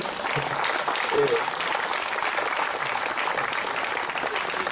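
Applause for Thierry Ségura at a political speech rolls on as a steady, fairly loud crowd clapping, with murmured voices blended into it.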